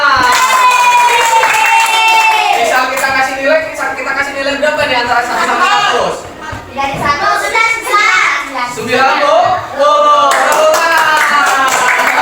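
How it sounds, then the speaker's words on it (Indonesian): Classroom children clapping for a classmate during a lesson on Asmaul Husna, loud claps mixed with kids' voices and chanting throughout, the clapping dipping briefly midway. "Kita kasih tepuk tangan"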